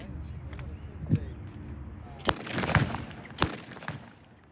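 Single semi-automatic shots from a Thompson submachine gun, an open-bolt weapon, at an outdoor Civil War show, three or four sharp reports spaced about a second apart over a murmuring crowd and outdoor background.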